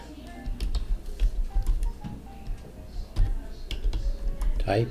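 Quiet clicking keystrokes on a computer keyboard, tapped in an uneven stream of separate presses at close range with no voices.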